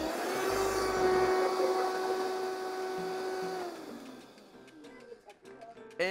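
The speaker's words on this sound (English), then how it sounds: "We've got our blender on." A kitchen blender crushing ice for shrimp aguachile whirs with a steady, loud motor hum for a few seconds, then winds down, leaving light clinks and clatter.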